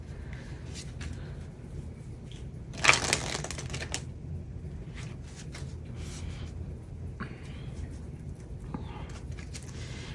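Tarot cards shuffled by hand, with a short clattering burst of riffling early on and softer scattered card handling afterward, close over a low steady background hum with no talk.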